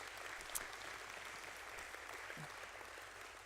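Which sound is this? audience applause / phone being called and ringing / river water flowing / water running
audience applause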